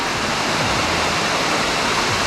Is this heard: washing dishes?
no